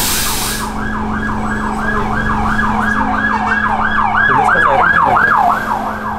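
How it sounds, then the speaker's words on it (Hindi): A loud, close fire truck siren wails in steady rising and falling cycles as it passes a stopped bus in Belgrade, over a constant engine hum, with no talk. "ये फायर ट्रक था क्या, ये बस उसके लिए रुकी है?"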